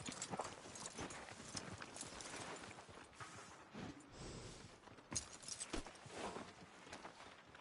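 Horse hooves clip-clop in Red Dead Redemption 2, a quiet irregular series of thuds with rustling and faint ambience, no talk.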